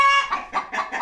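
Hens clucking and squabbling in a henhouse in winter, a quick close run of about five agitated clucks in succession.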